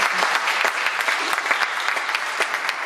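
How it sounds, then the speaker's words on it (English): An audience at a public speaking event claps in a loud, dense, even round of applause that keeps up without a break. "So let's give a round of applause to Crystal."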